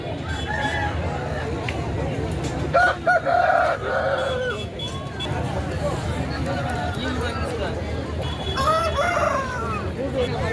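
A rooster crows amid the busy chatter of a crowded tribal market in Kunta, with people talking throughout, haggling over prices, and another crow later.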